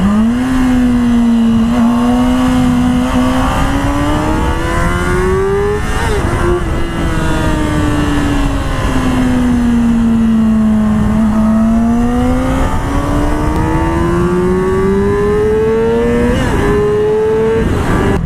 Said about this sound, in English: You really have got to get it revving.